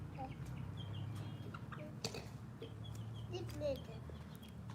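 A rooster on a small farm gives short clucks and calls at moderate distance over steady low background noise, with children's voices heard faintly nearby.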